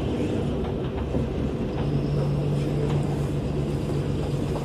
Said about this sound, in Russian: но только внезапно мы догоняем трамвай